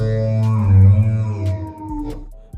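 A Korg Nautilus keyboard plays a sustained lead synth patch, a preset migrated from a Kronos, with rich harmonic tones and a gliding pitch bend before the note fades, loud and alone.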